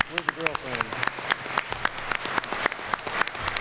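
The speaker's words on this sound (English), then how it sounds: "The girlfriend is clapping the loudest." Audience at a high school Veterans Day program claps for cadet prize winners, a brief burst of moderate applause with some individual claps standing out and a voice speaking over it.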